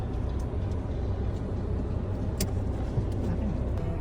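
Idling cars stuck in a stalled road traffic jam near Tagaytay, a steady low engine rumble throughout with faint passing noise and no clear voices.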